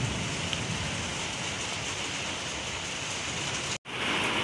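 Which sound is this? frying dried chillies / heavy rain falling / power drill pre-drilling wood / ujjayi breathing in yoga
heavy rain falling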